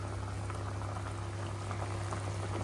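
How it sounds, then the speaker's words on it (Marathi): Raw mango pieces simmer in sugar syrup for a sweet-sour murabba, giving a steady, close bubbling and fizzing with a low constant hum underneath, no voices. "जेवढं ते त्याला सुटेल पाक तेवढ्याच पाकामध्ये शिजून घ्यायचा"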